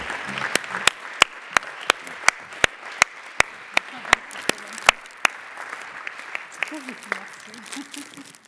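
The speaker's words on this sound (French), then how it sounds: "je vais vous demander des acclamations pour Marie-France" A conference audience claps for Marie-France Soler at a closing ceremony, a dense burst of applause with loud, sharp, evenly spaced nearby claps that thin out toward the end while a voice speaks over it.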